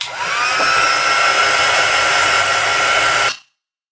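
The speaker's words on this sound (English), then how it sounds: "then we'll fire up the heat gun" A heat gun blows a steady, loud broadband roar for about three seconds to melt embossing powder for distress-ink embossing, then cuts off abruptly into silence.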